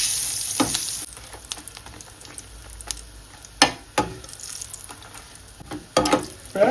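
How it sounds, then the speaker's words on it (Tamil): Chillies fry in hot oil in a pan, giving a steady quiet sizzle broken by sharp pops and spits, with occasional louder crackles as they are stirred. "மிளகாய் பொரிய வைக்கலாம்"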